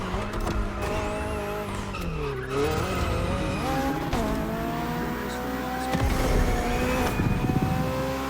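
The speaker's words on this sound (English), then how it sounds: "Finally, the BMW M Hybrid V8. What a beast." BMW M Hybrid V8 endurance race car from 2023, driven in The Crew Motorfest, roars steadily throughout with rising and falling engine pitch as it shifts and accelerates, with tire squeal and skidding mixed in.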